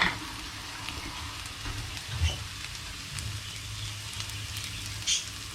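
Curry leaves sizzling in hot oil alongside fried onion in a fish cutlet recipe, a steady soft crackling hiss with a couple of small pops, close and fairly quiet, no talk.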